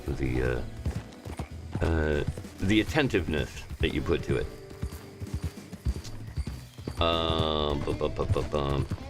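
Horse hooves clip-clopping at a riding pace in a roleplay video game, a steady rhythmic beat under someone talking almost continuously, with a brief whinny-like tone near the end.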